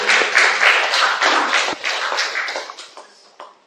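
Dense applause from a seated audience at an Indonesian Islamic preaching gathering, a full wash of clapping that holds steady and then gradually thins and fades over a few seconds.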